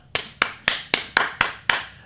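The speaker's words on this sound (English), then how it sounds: "Everybody clap your hands." Hands clap seven times in an even, brisk rhythm, each clap sharp, close and fairly loud, with short quiet gaps between.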